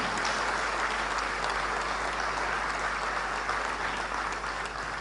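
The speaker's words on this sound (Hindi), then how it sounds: "लगातार तालियां।" Sustained, dense applause fills a ceremony hall at a medal presentation, steady and loud from start to finish, with no voices heard.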